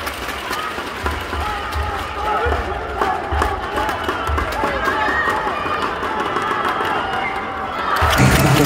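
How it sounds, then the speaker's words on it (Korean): A basketball arena crowd cheers and claps steadily at a women's game, dense rhythmic noise throughout with an announcer's voice over it, rising into a louder burst at the end. "정예림 선수 힘낼 수 있도록 경기에 박수 보내주시기 바랍니다."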